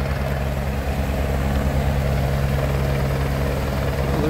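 A helicopter picking up at Meager Creek hot spring drones loudly and steadily, its rotor chop and engine whine a constant close roar with no talking.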